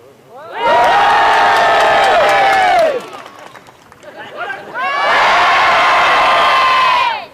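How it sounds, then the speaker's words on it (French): A crowd at a medieval festival in Falaise bursts into two long, loud rounds of cheering and shouting with children's voices, separated by a brief lull of murmuring talk. "Acclamez-vous par la droite, oui."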